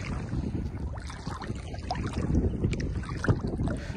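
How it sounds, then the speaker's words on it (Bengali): Wind gusts and babbling water lap around a boat on coastal saltwater where fishermen haul nets, a steady broad rush with a few louder splashes, no voices. "তার সাথে বাতাসের শব্দ, পানির কলকল শব্দ"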